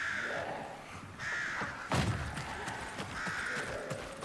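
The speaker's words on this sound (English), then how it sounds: "This crow sounds really linger." Several raspy crow caws from an extraction shooter game, spaced unevenly and moderately loud, with a brief thud near the middle breaking the calls.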